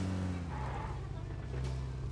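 A vehicle driven in the mobile battle royale game Battlegrounds Mobile India gives a steady, low engine drone that holds evenly throughout without pause.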